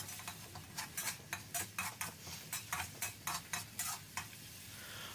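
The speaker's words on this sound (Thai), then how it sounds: "จากนั้นเราก็ผัดให้หอมเลยครับ" A utensil stirs and scrapes through curry paste sizzling in a pan, with repeated rhythmic strokes over a steady frying hiss, close and fairly quiet.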